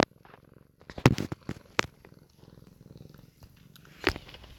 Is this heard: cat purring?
yes